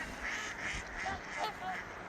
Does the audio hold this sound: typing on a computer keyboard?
no